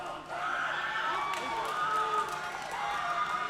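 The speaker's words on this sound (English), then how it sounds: "You hear the crowd shrieking here." A crowd at an MMA fight shrieks and cheers in a sustained, fairly distant roar, with high voices rising and falling throughout as a grappling exchange plays out.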